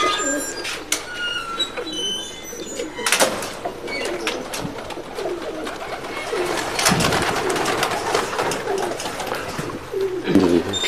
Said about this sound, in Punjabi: ਬਿਲਕੁਲ ਜੀ ਅੱਛੀ ਨਸਲ ਦਾ ਕਬੂਤਰ ਹੈ।